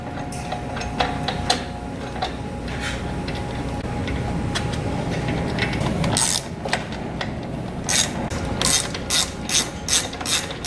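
Ratcheting wrench clicks in repeated bursts while tightening the two bolts that secure a gear motor onto an auger shaft, with mechanical clatter and a steady background hum, no talk.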